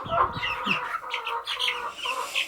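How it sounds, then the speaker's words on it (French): Close, steady clucking from a small young rooster, a string of short throaty calls with brief chirpy notes, lasting throughout with no one talking. "Ça c'est le petit coq ça."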